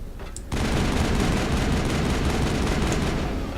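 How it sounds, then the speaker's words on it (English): Loud, dense automatic gunfire from the video game Mass Effect erupts after a brief quiet moment and continues without pause to the end, with no voices. "Who's shooting?"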